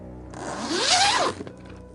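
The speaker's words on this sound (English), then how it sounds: "the sound of the tent's zipper being slid open" A single tent zipper slides open in one smooth, rising pull lasting about a second, close and crisp, ending with a soft thunk.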